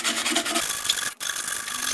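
A close, dry rasp comes from scratching yellow paint off a top box, a continuous rough rubbing that breaks off for an instant and then resumes.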